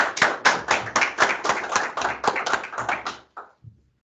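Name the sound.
audience applause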